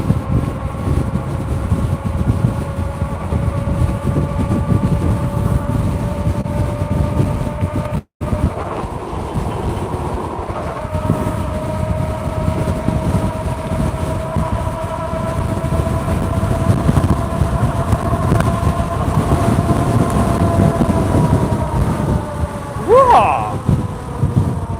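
Brakes squealing on an electric all-wheel-drive vehicle at high speed, heard as a long sustained whine over heavy wind roar and road rumble, with a louder rising squeal near the end; a voice talks over it.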